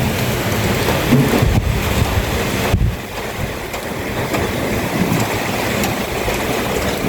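Heavy rain from Typhoon Uwan in Cavite pours in a dense, continuous roar, loud and close, with low rumbling surges that may be thunder and wind rising and easing underneath.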